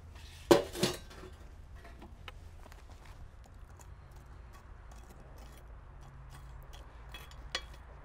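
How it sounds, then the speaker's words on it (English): Hot coals are set in a ring around a cast-iron Dutch oven for cornbread, giving a couple of sharp metallic clinks near the start, then quiet scraping and small taps over a low outdoor background. "Now I'm going to take and put a ring of coals around the perimeter."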